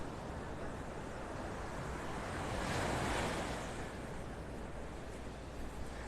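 Surf rolls onto Vanderbilt Beach in North Naples, Florida, a steady wash of breaking waves that swells to a fuller crash midway, with wind noise across the microphone.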